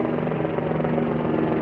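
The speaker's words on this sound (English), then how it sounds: "There's always a helicopter here" Helicopter over North Park, San Diego at night, a loud close steady rotor drone with a pulsing hum that holds constant throughout and no voices.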